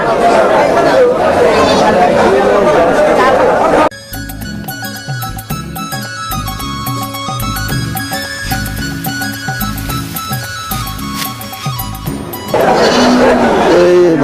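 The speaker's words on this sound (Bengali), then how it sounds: "এই ছাগলটা আপনাদের সামনে দেখানোর চেষ্টা করবো এই ছোট ছাগল" Goats bleat amid busy crowd chatter at the Aricha livestock market before Qurbani Eid, loud and close at the start and end.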